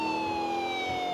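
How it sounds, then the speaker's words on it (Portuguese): A police car siren in the video game GTA 4 wails as steady, slowly falling electronic tones over a low engine rumble, loud and continuous throughout. "Eu vou com a sirene ligada, hein?"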